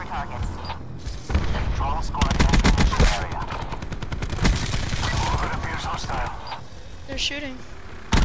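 Call of Duty gunfire rattles through the scene: rapid machine-gun bursts and repeated shots come loud and close, mixed with game effects and radio-style voices talking between and over the volleys.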